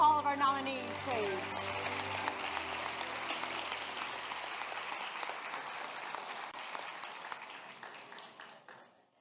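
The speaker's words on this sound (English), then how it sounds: "one more round of applause for all of our nominees, please" Applause from the audience at a regional educators awards ceremony, honoring the nominees. Dense clapping swells loud at once and holds steady for several seconds before slowly thinning out, with a tonal trace near the start.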